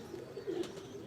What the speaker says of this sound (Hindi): अब ये जो कबूतर है ये प्योर कमगर कबूतर है